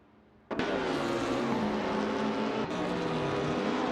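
Engines of 1950s Formula One race cars in a racing simulator roar in a sudden burst, then hold a loud, steady whining drone with shifting pitch as the cars race close by.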